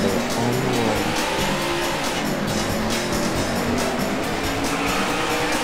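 Race cars in the Daytona USA arcade game roar steadily at close range, engines revving loud and continuous with tire squeal and skidding mixed in, and no talk over them.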